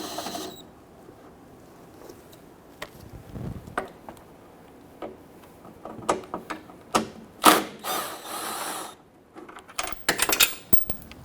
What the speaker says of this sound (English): I'm just using an extension with a 10mm socket